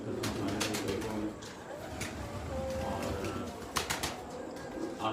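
Teddy pigeons coo in low, soft bursts while wings flap in quick flurries, close by, with a voice briefly speaking over them.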